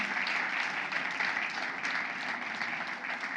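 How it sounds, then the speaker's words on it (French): An audience applauds at a French-language business and finance talk, a dense, steady wash of clapping hands that continues without pause. "Est-ce qu'on peut, sous vos acclamations, s'il vous plaît?"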